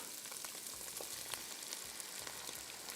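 Egg fried rice being stir-fried with ketchup in a hot pan gives a faint, steady sizzle with crackling spatters and light, irregular stirring scrapes.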